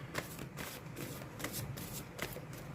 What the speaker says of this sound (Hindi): So let me just shuffle these cards